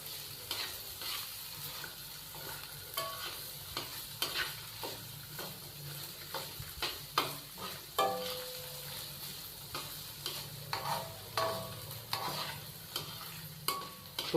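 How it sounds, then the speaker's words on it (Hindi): Carrots and peas stir-frying in a pan for vegetable noodles: a soft, steady sizzle with frequent spatula scrapes and taps in an irregular rhythm, fairly quiet overall. "गाजर और मटर डालने के बाद हम इसको 1 से 2 मिनट फ्राई कर लेंगे।"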